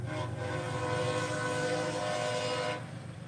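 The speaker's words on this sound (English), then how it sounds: "Did you guys hear the train?" A train rolls past directly behind a workshop, its horn sounding a sustained chord for nearly three seconds over the rumble of the cars before cutting off.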